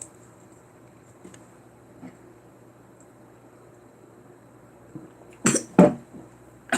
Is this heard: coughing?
yes